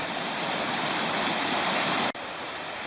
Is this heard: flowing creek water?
yes